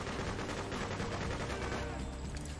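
Continuous gunfire in the 2003 game Freedom Fighters, a dense, steady rattle of rapid shots that keeps going loud and close through the whole short stretch.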